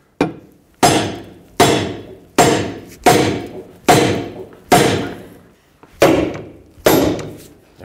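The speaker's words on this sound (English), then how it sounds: "Hammer the knuckle right here." Loud metallic hammer blows strike the steering knuckle of a 2005-2010 Chrysler 300. Eight heavy, evenly spaced hits land close by, each ringing out briefly before the next.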